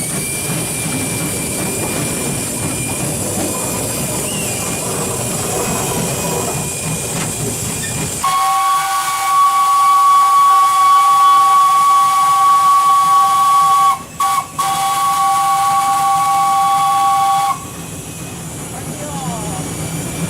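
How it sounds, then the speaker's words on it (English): A shunting steam locomotive at Rejosari in Java gives a sustained, loud two-tone steam whistle with a brief break in the middle, preceded and followed by a broad rushing hiss of steam, with voices faintly around it. "my guest have immersed himself into the duty of shunting steam loco in Rejosari"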